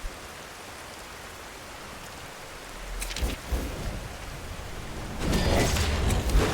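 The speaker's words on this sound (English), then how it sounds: "It's raining." Skyrim rain pouring down, a constant soft wash of rainfall that grows heavier, with rumbling thunder-like surges building in the second half, and no speech.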